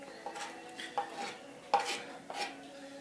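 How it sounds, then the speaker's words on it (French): Soft wet squelches and light taps of minced onions being stirred into hand-kneaded ground beef in a bowl, a few quiet separate strokes with no talk. "Et je vais faire moi-même mes steaks hachés. Donc j'ai malaxé et je vais rajouter mes oignons émincés."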